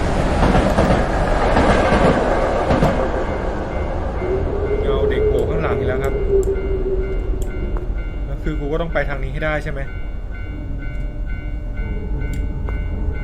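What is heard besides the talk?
train passing on railway tracks, from a video game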